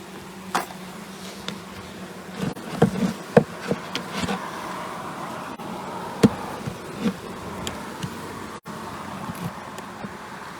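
Honey bees buzz in a steady drone during a chimney extraction in Nantwich, with scattered knocks and handling sounds over the continuous hum and no speech.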